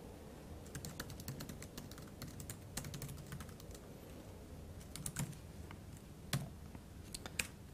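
Typing on a computer keyboard, a quiet, close run of light, irregular key clicks with a few sharper taps mixed in, continuing steadily throughout.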